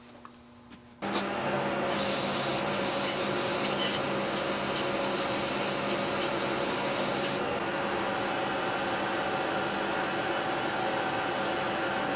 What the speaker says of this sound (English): so I'm ready to start sanding